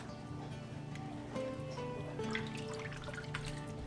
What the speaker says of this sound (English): pour that broth in